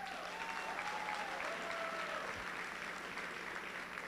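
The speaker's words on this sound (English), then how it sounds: "Reason to clap it up." A school crowd at a pep rally claps together in a steady, even stream, fairly distant and sustained, with faint voices mixed in.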